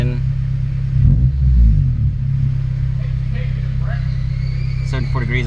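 A K-swapped Honda Civic Si with a K24/K20 engine sits idling with a steady low rumble, then revs up briefly around the second mark before settling back down. The sound carries steadily throughout, with a few faint higher clicks near the end.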